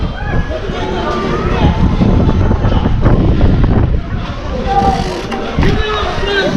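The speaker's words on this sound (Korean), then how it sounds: "바람 불지 마라" Wind buffets a microphone outdoors during wheelie bike practice, a low, uneven rumble that rises and falls under a person speaking nearby.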